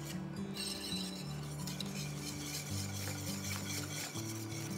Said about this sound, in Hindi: तो इस तरह से इसे अच्छे से मिक्स करना है।